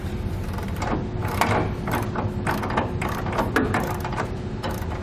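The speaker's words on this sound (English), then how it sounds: "go back and forth, do a couple turns on one, a couple turns on the other, until you get it up to the manufacturer recommendations on the torque specs" A ratchet tightens the frame bracket bolts of a B and W underbed fifth wheel hitch on a 2018 Chevrolet, a rapid close clicking, loud and continuous in uneven bursts.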